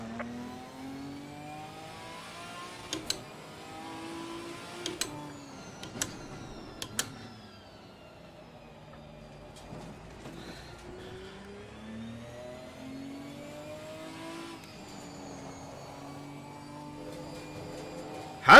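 GT4 race car in Assetto Corsa Competizione, its engine revving up and down through the gears with rising and falling tones and a transmission whine, sharp clicks from shifts scattered through the run, steady and moderately loud with no talking.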